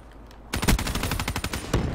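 Dingo light machine gun firing in Black Ops 3, a loud rapid automatic burst that starts abruptly after a brief quiet moment and keeps hammering steadily to the end, close and dense.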